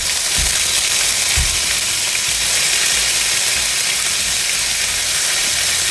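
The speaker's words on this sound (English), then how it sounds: "I'm going to add the onion paste." Onion paste sizzles and fries in a pan with a dense, steady hiss and a few low thumps of stirring near the start, close and loud.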